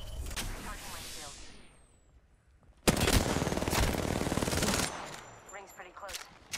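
Rapid automatic gunfire from an Apex Legends firefight, bursts of close, loud shots breaking off into a short lull before another dense volley hammers on for about two seconds, then scattered single shots trail off.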